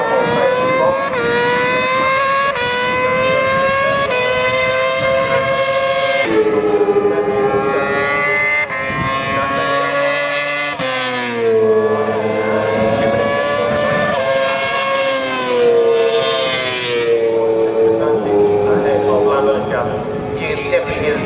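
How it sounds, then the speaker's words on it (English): Yamaha R6 engines in a BMCRC F2 sidecar race at Snetterton scream at high revs, a loud, continuous wailing whine that rises and falls through gear changes, with race commentary spoken over it. "You can definitely hear the screw of their R6s very much on the drive home there."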